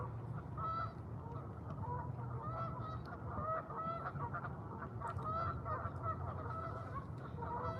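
Canada geese honk repeatedly beside an urban fishing spot, a flock of overlapping calls at moderate distance over a low steady background rumble, continuing without pause.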